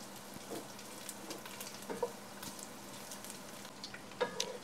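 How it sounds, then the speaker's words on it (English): Chorizo sausage frying in olive oil in a pot, a steady low sizzle and crackle with a few sharper pops and stirring clicks, fairly quiet and close, with no talking. "Now add the chorizo sausage into the pot."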